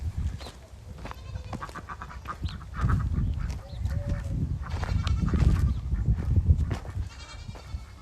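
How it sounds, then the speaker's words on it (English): Ducks quack in the morning, several birds calling close by in overlapping, irregular bursts that keep going throughout, with no talk over them. "all the sounds of ducks in the morning."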